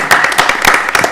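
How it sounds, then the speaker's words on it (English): A short, close burst of hand clapping from people at a county commissioners meeting, a quick round of applause with uneven claps and no talking. "I just want to give her a round of applause"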